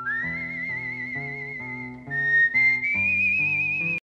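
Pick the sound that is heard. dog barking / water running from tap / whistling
whistling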